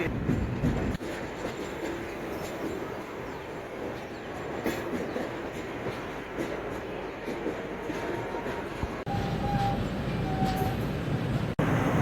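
The 19316 Veer Bhumi Express train rolling on rails after leaving Asarva, a steady rumble with rhythmic wheel clatter and brief squeals, heard continuously from on board.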